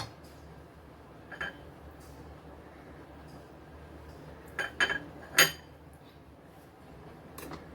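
Fried coriander vadi pieces made with moong dal and jowar flour are lifted out of a pan: a few sharp metallic clinks and scrapes of utensil on the pan, with quiet stretches in between.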